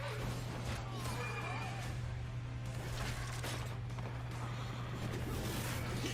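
Horses whinny and neigh amid a dense, loud battle soundscape with hoofbeats and a constant low hum, several calls rising over the din throughout.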